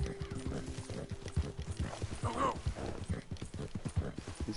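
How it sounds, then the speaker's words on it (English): A horse in the video game Red Dead Redemption 2 snorts and breathes hard over steady hoof clip-clops, with a voice talking over it. "hear the horse breathing hard."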